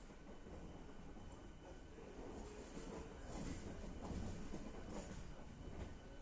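A yellow, blue and white EMU local train at the Tikiapara car shed gives a steady, loud rail rumble with a dense metallic clatter that swells slightly midway, with no voices.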